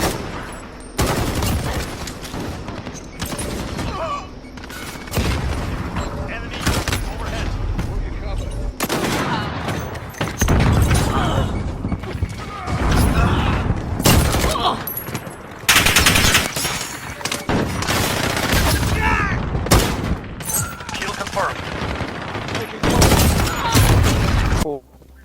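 Bursts of automatic gunfire from hip firing in Call of Duty (Modern Warfare and Cold War alpha), loud, close and repeated in rapid volleys across the whole stretch, with a voice talking over it.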